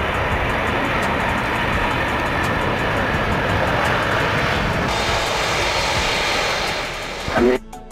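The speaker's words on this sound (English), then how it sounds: "The Boeing 747 is the most famous example of a jumbo jet" Boeing 747 jumbo jet engines giving a constant, loud broadband roar with a whining upper tone that holds for several seconds and fades out near the end.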